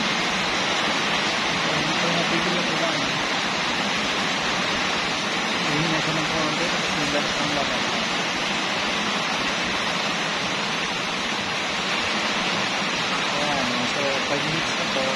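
Heavy rain falls during a motorbike ride as a dense, unbroken roar of hissing noise, steady and loud throughout with no clear voices.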